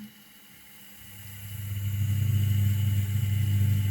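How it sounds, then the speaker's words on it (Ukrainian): A washing machine motor on a speed controller spins up under load, starting as a faint whir and building over a couple of seconds into a steady, fairly loud hum that holds alone to the end. "Обережненько крутиться двигун."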